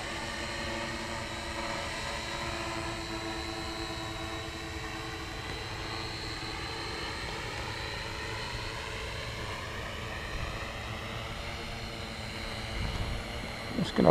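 A radio-controlled model airplane drones steadily overhead as its throttle is eased down, the engine tone sliding gradually in pitch at moderate distance, with a brief thump near the end.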